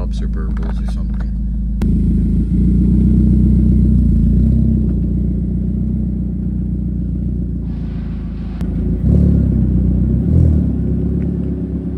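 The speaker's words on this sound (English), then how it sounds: "temps are good, so I can get a few revs in now" A Ford Focus fitted with a new aftermarket exhaust idles with a steady low rumble, then is revved several times, loud and close, the pitch rising and settling back to idle between revs.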